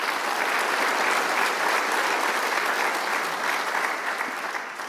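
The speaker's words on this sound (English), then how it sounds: "a huge round of applause for my father and mom" Dense, steady applause from a conference audience at an annual vitamins and minerals industry event, a continuous wash of many hands clapping close and loud for the full five seconds, easing slightly at the very end.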